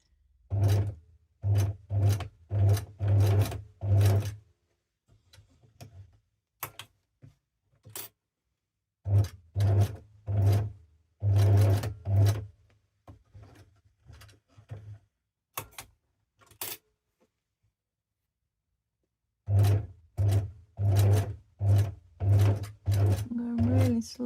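A sewing machine runs a slow straight stitch around a small fabric envelope, in short stop-start bursts of rapid needle clatter with pauses between, close up and alone.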